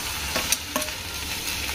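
Onions sautéing in a home-kitchen pan, stirred with a spoon: a steady soft sizzle with a few brief scraping knocks of the utensil, close by and fairly quiet.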